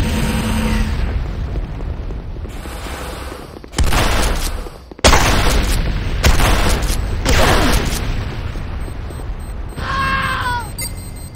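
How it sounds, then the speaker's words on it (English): Heavy explosions and rapid gunfire batter GDI infantry barracks in the Renegade shooter game, with loud booming blasts and bursts of fire arriving in clusters, broken by brief lulls and closing with a rising synthetic tone. "GDI infantry barracks under attack."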